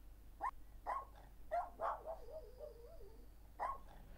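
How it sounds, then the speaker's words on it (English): A dog barks in short separate bursts, five or six sharp barks spread over a few seconds in The Coin Game, with a faint steady electronic tone running underneath. "oh, it's a dog!"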